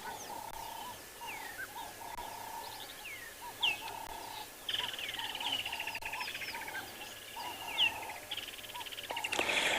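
Several birds chirp and call in repeated short phrases at sunrise on an African safari, some near and some farther off, with a busier burst of twittering toward the end.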